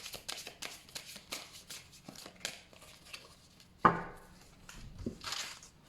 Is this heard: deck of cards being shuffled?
yes